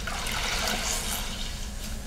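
Soap and water washing over an aluminum sheet, mostly water with very little soap: a steady, close rush of running and splashing water that continues throughout.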